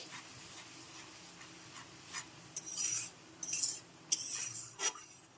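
Tomato puree with ginger and green chilli paste stirred in a pan for niramish aloo dum, a low simmering hiss with several scattered scrapes and clinks of a utensil against metal, no voices.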